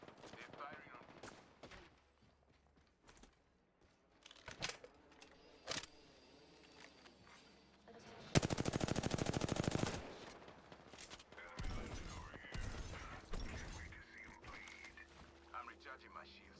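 Rapid bursts of enemy gunfire from a shooter video game, sharp cracks scattered early then a sustained loud automatic burst mid-clip followed by more volleys, all mixed with game sound effects and some speech.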